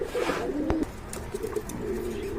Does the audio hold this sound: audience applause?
no